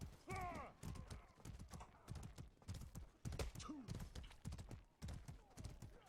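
Horse hooves clip-clop in a medieval war simulator video game, a fairly steady trot running under loud, continuous talking and game noise.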